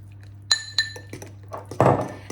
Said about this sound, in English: And I'm just giving it a good mix up.